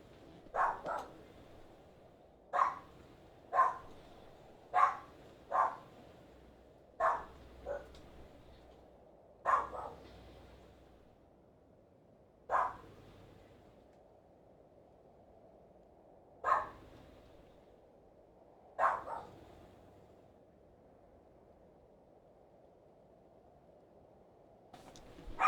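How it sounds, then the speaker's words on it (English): A pet dog barks at the neighbors in a series of sharp, loud barks arriving singly and in quick pairs with pauses between them, some trailing off into softer yips, over a quiet indoor background. "And my doggo's gonna bark."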